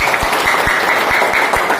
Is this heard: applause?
yes